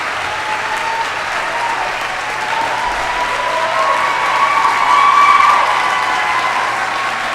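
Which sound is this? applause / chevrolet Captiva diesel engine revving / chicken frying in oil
applause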